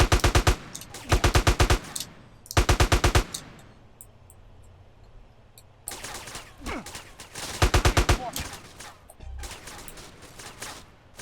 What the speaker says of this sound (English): Where am I getting shot?